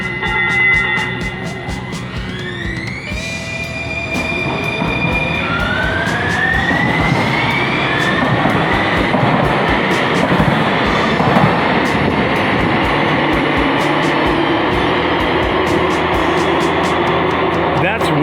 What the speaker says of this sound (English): How about Max train?